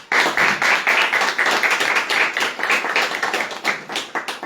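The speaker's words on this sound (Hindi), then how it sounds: "एक अच्छा ताली बजा दो यीशु के लिए।" Church congregation claps together in a loud, steady burst of hand claps during a Punjab church service, dense and rhythmic throughout with no talk over it.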